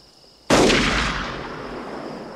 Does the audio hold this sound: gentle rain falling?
no